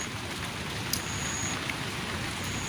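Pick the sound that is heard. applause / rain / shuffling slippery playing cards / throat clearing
rain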